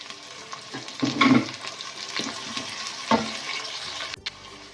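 Chopped tomato being stirred into a black chickpea curry frying in a pot, with a few scraping stir strokes over a steady low sizzle and no talking.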